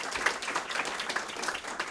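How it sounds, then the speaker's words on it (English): Applause at a public school board meeting as a teacher is recognized, a modest crowd clapping quickly and unevenly, fairly faint and distant, lasting the full moment. "round of applause for Tim from Flintstone"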